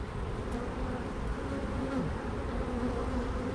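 Honeybees swarm around an open hive during an inspection, producing a dense, continuous droning buzz that stays loud and close throughout, with no voices.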